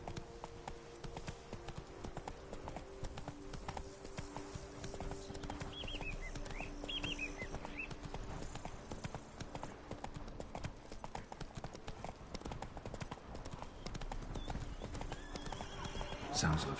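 Horse hooves clip-clop in a steady rhythm as a horse is ridden in the video game The Witcher 3: Blood and Wine, joined by occasional whinnies and game ambience, with someone talking quietly over it.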